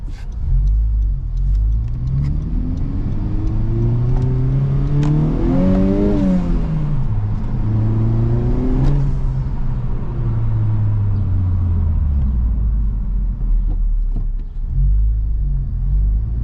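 A Honda Civic Type R Limited Edition on a test drive, heard from the cabin as a loud steady engine rumble with tire and road noise, the revs climbing and falling through gear changes.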